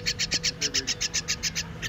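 A baby bird being hand-fed worms chirps in a quick, steady series of about a dozen high, bright peeps, close and clear over a low background hum.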